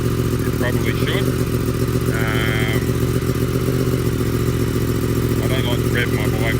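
A Yamaha MT-10 motorcycle fitted with an Akrapovic slip-on exhaust idles loudly and steadily close by, a deep continuous rumble with some mechanical clatter. A person speaks briefly over the engine.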